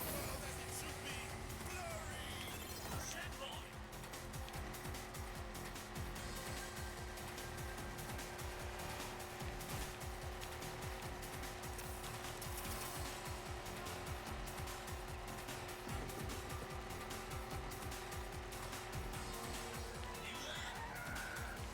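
Racing car engines in Hotshot Racing hum and whine steadily throughout, a continuous mid-level drone with faint tire noise and no clear breaks, sitting under quiet background sound.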